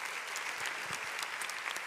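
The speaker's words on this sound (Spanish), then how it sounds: "Un aplauso" Audience applause at an awards ceremony, a brief burst of dense, even clapping at moderate level with no voices over it.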